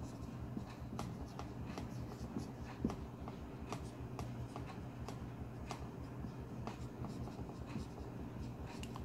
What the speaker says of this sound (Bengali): তো প্রথমে আমরা সূত্রটা লিখব